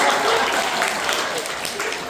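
A group of children in a classroom applaud a classmate, a brief burst of brisk, close clapping with a voice faintly underneath.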